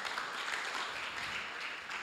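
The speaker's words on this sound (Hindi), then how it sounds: "उसके लिए ताली बजा के धन्यवाद दें," Congregation at a Sunday Hindi church service applauding together, a steady, moderately quiet wash of many hands clapping that holds evenly throughout with no voices.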